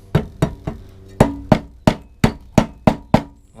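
Hammer blows land one after another, about ten sharp metallic strikes at an uneven steady pace, close and loud, as parts are driven onto a lawnmower engine during an engine swap.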